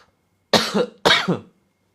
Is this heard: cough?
yes